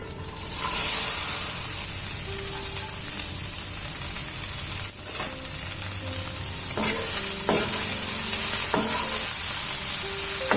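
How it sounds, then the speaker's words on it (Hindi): Okra fries in hot oil with carom seeds and cumin, giving a loud, steady sizzle close by, with a few clinks of a utensil stirring through it. "उसमें थोड़ा सा डाल रही हूँ मैं यहाँ पे अजवाइन और थोड़ा सा जीरा, और ये गरम होने के बाद इसमें भिंडियाँ डाल दूंगी मैं"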